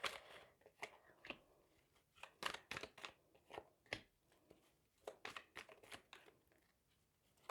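Tarot cards being drawn and shuffled by hand, heard as quiet, irregular papery snaps, slides and rustles in close, uneven bursts with no talking.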